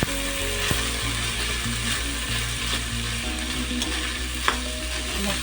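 Jowar grains being stirred in a pan with sesame, cumin and green chilli, a continuous sizzle with steady scraping stirs over a low rhythmic hum, with no voice.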